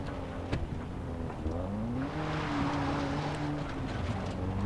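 A car driven through a Far Cry 3 game world, engine droning steadily with shifting pitch as it speeds along, wind and rumble filling the background, with a few clunks and bumps.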